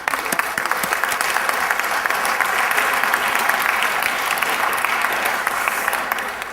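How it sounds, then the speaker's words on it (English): A sustained round of audience applause at an evening talk, dense steady clapping from a crowd lasting several seconds and tapering at the end. "let's give him a round of applause"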